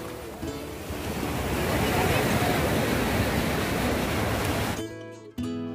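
Sea waves at Shiroda beach roll and wash continuously as loud, broad surf close by, then cut out abruptly near the end.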